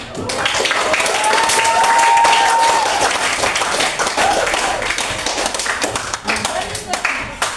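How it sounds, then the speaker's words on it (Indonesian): A crowd gives sustained applause, dense and loud, lasting most of the time before slowly thinning out. There are brief voices underneath. "Aplaus."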